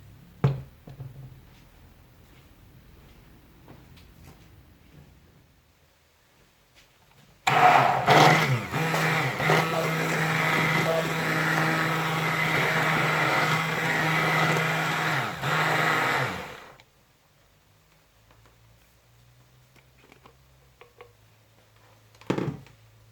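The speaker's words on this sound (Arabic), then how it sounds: "وغادي نحاولوا ندمجوهم بهاد لو فغان ميكسور حتى يندمج لنا داك الفرماج مع الحليب" An electric hand mixer blending cheese with milk for a chicken quiche switches on after a quiet start, whirs loudly and steadily for about nine seconds, then cuts off, leaving faint kitchen handling noises.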